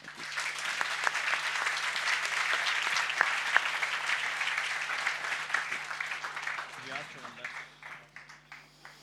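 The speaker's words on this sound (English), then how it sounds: "please join me in giving the panelists a warm round of applause" A conference audience gives a panel discussion on politics a warm round of applause. The full, sustained clapping holds steady for most of its length, then thins out into scattered claps as it dies away.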